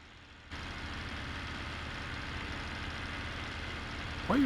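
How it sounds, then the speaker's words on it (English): A truck engine stuck at a high idle in Farming Simulator 19, a steady droning hum that holds constant throughout with no talk over it. "Why are you idling so high?"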